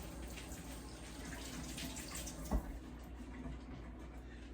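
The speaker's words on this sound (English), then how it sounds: "Let's wash my hands." Tap water runs steadily into a sink while hands are washed beneath it, a continuous close wash with one brief splash midway and no talking.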